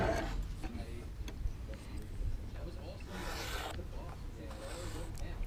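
A fascia board being cut by hand gives a rough, rasping sawing sound up close, with a voice talking over it.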